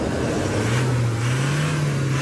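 A stock Honda jeep fitted with a 2019 Fortuner engine runs at a steady idle, producing a smooth, low, constant hum throughout with no speech.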